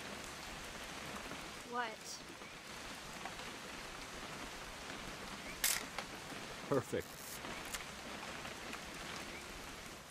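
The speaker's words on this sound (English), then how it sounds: "It's gonna rain the whole weekend, isn't it?" Steady rain falls throughout a scene in the video game What Remains of Edith Finch, a constant hiss under brief spoken voices and a few sharp clicks like a camera shutter.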